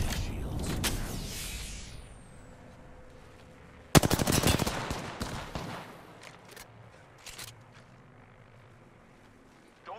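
Automatic weapon fire in the video game Apex Legends: a loud burst breaks out, stops, then returns as a heavy rapid volley that thins into scattered distant shots.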